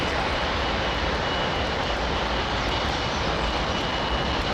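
A GE90 jet engine on a Boeing 777 landing at Heathrow, a loud, continuous broadband roar that stays constant and close throughout with no voices.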